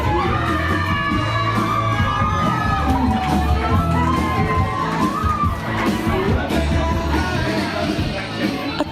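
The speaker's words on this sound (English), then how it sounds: "A crowd of about 100 people, including media, airport staff and the town's mayor, crowded into the narrow international arrivals area" A crowd of about 100 people, including media and airport staff, packed into a narrow international arrivals area to welcome the first international visitors, cheering and shouting continuously with children's voices and chatter mixed in.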